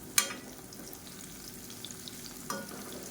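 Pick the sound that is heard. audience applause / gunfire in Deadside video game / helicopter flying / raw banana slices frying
raw banana slices frying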